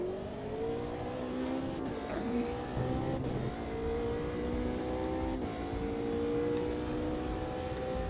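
Race car in Automobilista 2, its engine revving up through the gears with rising tones and brief drops at each shift, loud and close, running continuously.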